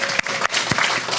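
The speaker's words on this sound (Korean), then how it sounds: "박수." A church high school worship audience gives a short burst of clapping, dense and close, lasting about a second.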